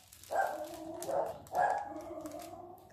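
A dog gives a few sharp barks in a row, somewhat muffled and set against a steady background hiss.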